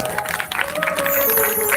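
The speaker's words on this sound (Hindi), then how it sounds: "उनके लिए जोरदार ताली बजाइए" Crowd at a Ram Katha gathering applauding devotees, a dense continuous wash of clapping that stays loud and steady throughout.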